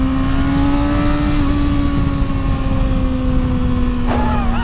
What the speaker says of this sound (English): There's actually a surprising amount of power on this motorcycle.